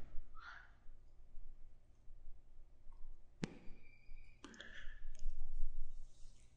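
Two sharp, distinct computer mouse clicks land a second apart in a quiet room, close and crisp against faint background noise.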